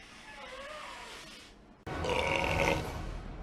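A gamer lets out a long, low, rumbling belch up close, then a louder, rougher noisy burst follows abruptly.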